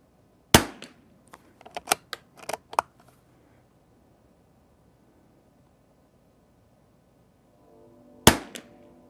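A Christensen Arms Ranger22 rifle fires one sharp, close crack, then a cluster of quieter clicks and snaps. After a long silent pause, a second loud shot rings out.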